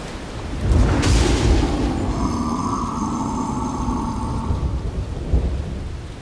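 A thunderstorm in the video game South of Midnight opens with a sharp, loud crack of thunder that rolls into a long rumble over steady, heavy rain.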